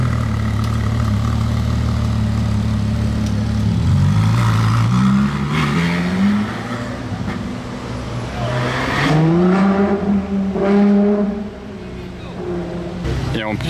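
A red LaFerrari engine rumbles close by and revs up twice, the pitch climbing and falling, while people talk in French over it.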